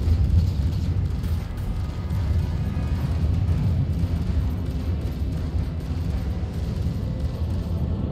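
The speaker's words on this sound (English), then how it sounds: "Oh, these rattlers are amazing. Look at those missiles go." Rattler missiles launch and detonate in Star Citizen during a fight involving an Origin 400i ship, producing a loud sustained low roar of rocket thrust and rolling explosions that blend into a heavy rumbling wash.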